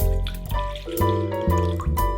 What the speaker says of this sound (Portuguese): Numa outra tigela eu vou colocar água.